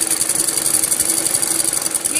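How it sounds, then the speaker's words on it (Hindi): A sewing machine runs steadily with a fast, even mechanical chatter as it stitches a straight seam down a plain cloth panel for a Patiala salwar, close and continuous. "ये कली पर हमें सीधी सिलाई लगानी है नीचे तक"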